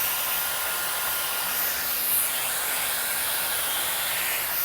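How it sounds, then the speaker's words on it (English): A hair dryer fitted with a diffuser nozzle, used during a mid taper mullet haircut, blows a loud, continuous airy hiss with slight swells, close and alone. "Now, I'm going to use the nozzle, the diffuser."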